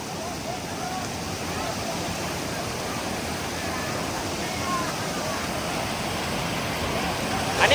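Waterfall roaring as a constant, even rush of water that fills the scene at a steady level, with no voices heard.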